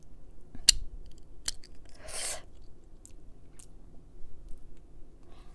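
Biting down on a dental retainer in a quiet room, heard as a few sharp close clicks and crunchy bites, one longer crunching squish in the middle, with faint soft clicks after.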